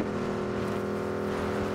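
A vehicle in the PUBG battle royale game drives along with a steady, droning engine hum, loud and continuous throughout, with no talk over it.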